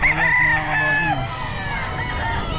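A sweater gamecock rooster crows close by at a busy Bocaue pet market, one loud cock-a-doodle-doo with a clear rising and falling call, followed by softer clucking and background market murmur.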